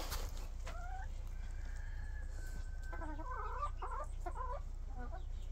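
Chickens cluck in a small outdoor flock kept alongside peafowl, with several short calls scattered over a steady low background hum, fairly faint and at a middle distance, with no talking.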